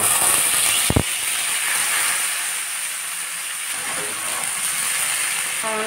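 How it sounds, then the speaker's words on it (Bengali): Steamed jackfruit pieces fry in hot oil in a wok, making a loud, constant hissing sizzle. A sharp knock comes near the start and faint scraping follows later, with no voices. "ভাপানো কাঁঠালটাকে ভেজে নিব।"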